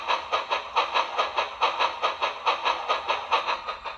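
Rapid rhythmic steam chuffing with a hissing edge from a Proto 2000 D&RGW 2-8-8-2 model locomotive with a SoundTraxx Tsunami2 decoder, beats slightly uneven as two exhaust patterns drift in and out of step, steady and close.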